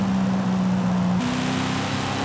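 A 2015 Corvette Z06 engine in Forza Horizon 5 drones at a steady pitch, then shifts up into a slightly higher, constant hum, loud and close like in-game engine audio.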